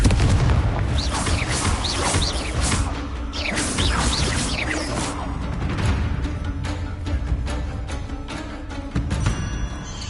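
Confringo fire spells blast repeatedly during a Hogwarts Legacy duel, with dense booms, whooshes and crackling impacts layered over a continuous loud battle din with game music.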